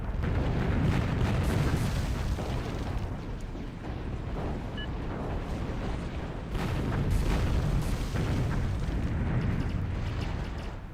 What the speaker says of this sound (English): Not able to get these 2 explosions from one Trinity.